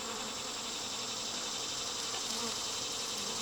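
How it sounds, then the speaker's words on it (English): A honeybee swarm buzzes in a dense, continuous hum, close and even throughout, hanging in a ball on a branch, with no talking. "there's still a ball of bees down here"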